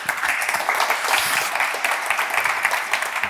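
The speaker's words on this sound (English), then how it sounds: "Give them a big applause." Audience applause at a digital innovation event, a sustained dense patter of many hands clapping throughout, fairly even in loudness.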